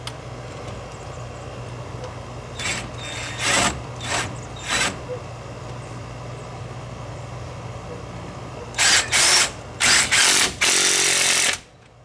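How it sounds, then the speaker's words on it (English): A breaker bar tightens a front wheel bearing bolt on a 2017 Ford Fusion, with bursts of metallic ratcheting and scraping in short groups, the loudest run near the end, over a low steady background hum. "We'll just torque that down with the breaker bar."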